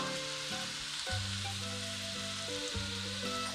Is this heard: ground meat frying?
yes